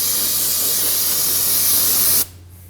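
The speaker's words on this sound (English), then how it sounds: "it's good to clean it down with some brake and parts cleaner" Brake and parts cleaner sprayed onto a brake caliper of a 2003-2006 Subaru Baja during brake bleeding: one loud, steady, close aerosol hiss lasting about two seconds, then cutting off abruptly into quiet.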